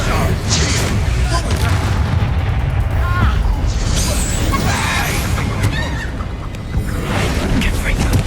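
An explosion spell cast in Hogwarts Legacy goes off as a deep boom with crackling debris, alongside other game effects and a talking voice, all loud and close.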